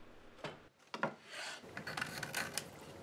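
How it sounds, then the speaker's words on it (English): Wood pieces for a Newtonian telescope mount being cut to fit: a couple of short scraping strokes, then a steady close rasping and rubbing of saw or file on wood, fairly quiet with no voices. "So first thing I'm doing is cut my pieces to fit."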